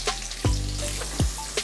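Curry leaves and turmeric frying in hot oil for nylon poha chevdo, a steady close sizzle with a few sharper crackles and pops, no talk.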